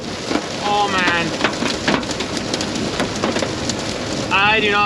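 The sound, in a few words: hail hitting a truck while driving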